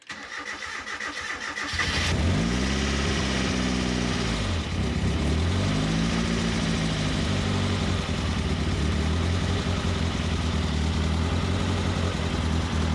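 A turbocharged Mazda Miata engine cranks briefly on its first start after timing was set, catches and revs up, then settles into a steady, rumbling, slightly high idle with a couple of small rises in pitch.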